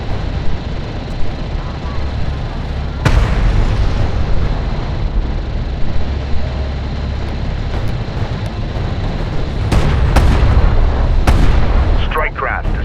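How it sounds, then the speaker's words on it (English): Heavy gunfire and explosions from a desert real-time strategy battle in Homeworld: Deserts of Kharak, a loud continuous barrage of artillery-like booms with sharp bursts, running throughout without pause. "Light attack vehicle is under fire."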